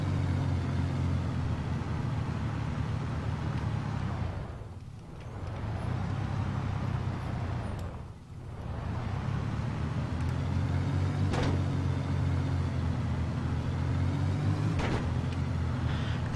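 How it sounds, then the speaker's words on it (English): Video game truck engine droning steadily with a low hum, briefly dipping twice as the truck leaves the ground on jumps, with a few sharp clanks on landing. "I'll go jump the truck first."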